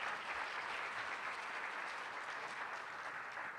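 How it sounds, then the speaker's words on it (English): An audience at a Los Angeles design talk claps in sustained applause, a dense, even wash of many hands that stays loud from start to end. "Let's give him another big round of applause."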